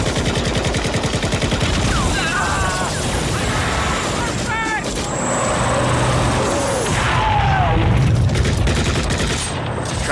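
Gunfire from a Rambo III battle scene: dense, loud machine-gun bursts and rapid volleys rattling almost continuously, mixed with engine noise, shouts, and whistling effects, with people talking over the action.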